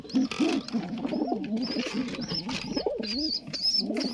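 Domestic pigeons of Turkish breeds such as kara alaca coo steadily in a loft, several birds overlapping in low rolling calls close by, with higher chirps and wing rustles mixed in.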